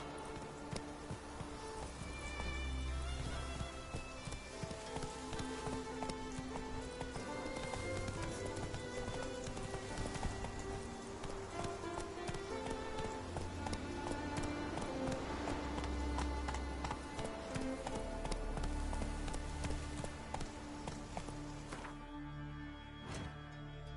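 A horse gallops in The Witcher 3, hooves pounding in a steady rapid rhythm under game music and ambience, fairly quiet and continuous throughout.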